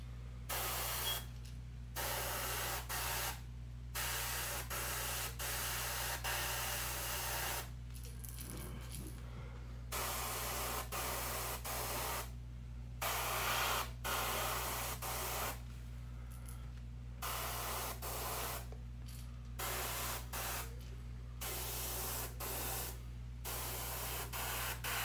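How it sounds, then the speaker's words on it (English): Turbo Dork color shift paint sprays from an airbrush in a series of hissing bursts of a second or several seconds each, separated by short gaps, close and steady over a constant low hum, with no talking. "I'm gonna spray some Turbo Dork color shift paint that I got across the black"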